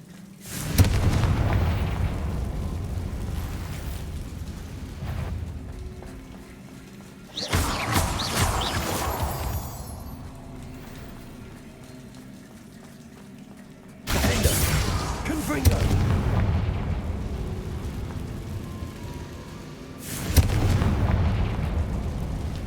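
Confringo blasting-spell explosions in Hogwarts Legacy, several loud booming blasts with long rumbling decays at intervals, close and dominant over the game's ambience.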